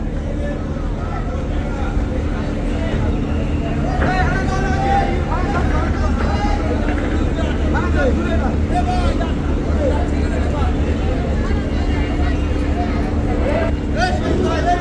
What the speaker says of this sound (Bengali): আস্তে আস্তে ক্রমশই এগিয়ে আসছে কীর্তনকলা দশ আজকে বরিশাল লঞ্চ ঘাটে